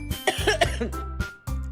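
Several harsh, close coughs in quick succession, loud bursts separated by short pauses, with a throat-clearing quality and nothing else behind them.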